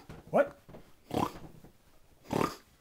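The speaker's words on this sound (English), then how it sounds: "I hear more pigs." Cartoon pigs from Angry Birds give three short grunting oinks spaced about a second apart, each a brief throaty snort against a quiet background.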